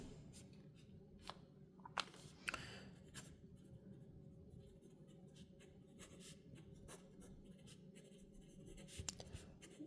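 A fountain pen, an Asvine V126, scratches softly across paper while a title is written, with faint strokes and occasional light taps against a quiet room background.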